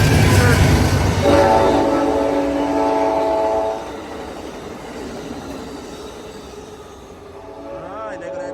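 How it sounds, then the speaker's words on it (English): Amtrak Coast Starlight train #14, led by P42 locomotive number 50 with an ALC-42, passes through Oakland Coliseum station in California, its loud rumble rolling by with a sustained horn blast early on before easing off. "Alright, there go that train out to Seattle."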